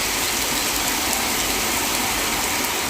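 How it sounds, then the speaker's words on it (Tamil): Moderate rain falling steadily over Gandhipuram railway station and Ukkadam in Coimbatore, a dense, even hiss of rainfall that holds constant and fairly loud throughout with no voices. "கோவை காந்திபுரம் ரயில் நிலையம் உக்கடம் பகுதிகளில் மிதமான மழை பெய்தது."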